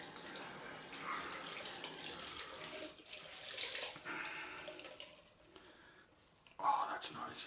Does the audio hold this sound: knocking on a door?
no